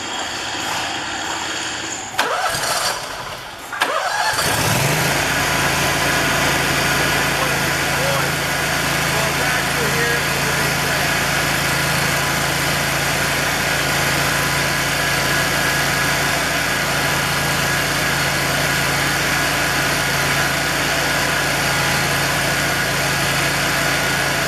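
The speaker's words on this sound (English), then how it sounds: "Now we're going to go ahead and start the engine and turn on the main pressure valve." A Gap Power sewer jet engine cranks and catches after a few seconds of quiet handling noises, then settles into a steady, even running drone that continues unchanged throughout.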